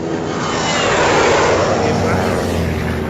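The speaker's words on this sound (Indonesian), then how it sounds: "Pak Tarani naik pesawat" A passenger airplane drones overhead, a loud, continuous engine roar that swells and then eases slightly, with no speech heard.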